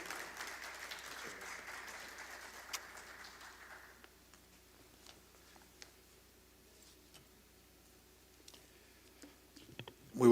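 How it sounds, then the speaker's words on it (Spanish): An audience at a conference applauds a speaker introduced to the podium, with steady clapping for about four seconds that then gives way to a quiet room with scattered clicks and rustles. "Un gran aplauso para él."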